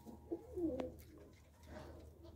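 Pigeons at a kabootar bazi pigeon club give soft, low cooing calls, a few short murmured phrases close by over quiet background noise.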